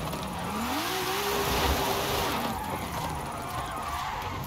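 A car drifting in the racing game Forza Horizon 5 revs its engine, the pitch climbing and then holding, while tires skid underneath at moderate loudness.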